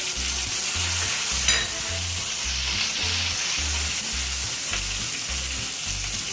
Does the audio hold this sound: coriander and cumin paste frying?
yes